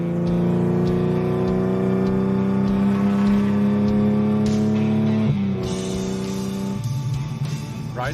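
A restored car's engine running steadily and close, holding a droning tone before shifting pitch as it pulls away, loud and continuous with no talking.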